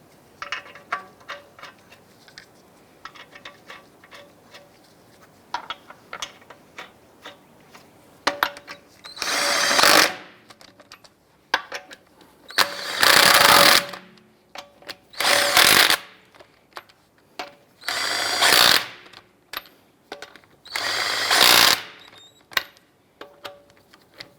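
Power tool snugging down the wheel lug nuts on a Cadillac SRX: five loud, separate whirring bursts, each a second or two long, after a stretch of quiet clicks and handling noises.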